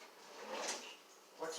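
A kitchen drawer is opened to get another spoon, a brief wooden slide and rattle at close range, followed by a soft knock, quiet and short.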